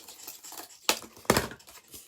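Scissors snip through a scrap of cardboard, shaping a curved wing for a homemade toy aeroplane: two sharp, close crunching cuts after some quieter rustling.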